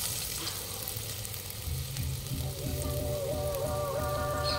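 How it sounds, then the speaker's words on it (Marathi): Curry leaves and finely chopped onion frying in hot oil for a tempering, a steady close sizzle with bubbling crackle and faint stirring and no voices. "तेल गरम झाला की फोडणीसाठी मी कढीपत्तो आणि एक बारीक चिरलेलो कांदो वापरतले"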